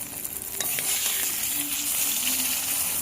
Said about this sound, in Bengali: এটা ভাজা।